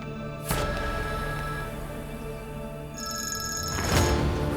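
An electronic phone ringtone trilling steadily, with brighter bursts near the start and end, no voices.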